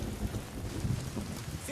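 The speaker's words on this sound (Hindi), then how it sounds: "बारिश भी आपको जाने से रोक रही है।" Steady rain pours during a romantic meeting scene in the Telugu film Sita Ramam, a dense, even wash of falling water with low rumbling, continuous and fairly loud with no voices.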